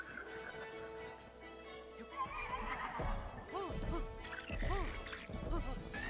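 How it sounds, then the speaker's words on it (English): Horse neighs and clip-clopping hooves from Breath of the Wild, several whinnies rising and falling over a few seconds with hoofbeats beneath, moderately close amid game ambience. "If I can get a horse, this will be insane."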